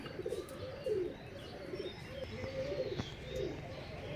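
Oman Teddy pigeons coo softly in low, rolling phrases that repeat every second or so, with a few light chirps, quiet and close in a calm setting.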